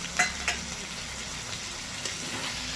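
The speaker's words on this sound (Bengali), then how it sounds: "সেই বাটা মশলাটা দিয়ে ভালো করে কষাতে হবে।" Ground spice paste and onions are stir-fried in a pan for a chicken and fenugreek dish, giving a steady sizzle under two sharp utensil scrapes near the start and a light tap later. It is close, with no talking.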